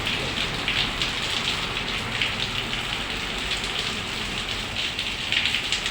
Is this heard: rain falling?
yes